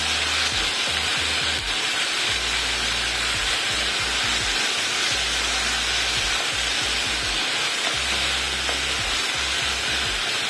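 Half a tomato sautés in a hot pan, sizzling steadily and loudly throughout with soft stirring knocks scattered underneath.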